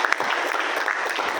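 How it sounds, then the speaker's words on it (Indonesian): A room of attendees at a police policy focus-group discussion claps for a visiting professor: a dense, steady burst of applause, fairly loud and even throughout, with no voices over it. "Oleh sebab itu kita harus beri aplaus kepada perwakilan Guru Besar yang ada di sini, Prof. Hamidul."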